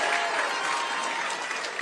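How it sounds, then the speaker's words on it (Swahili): A large crowd applauds steadily and loudly at a political event where Raila Odinga and President Ruto announce a coalition agreement. The clapping is dense and sustained from start to finish. "tumpigie baba makofi"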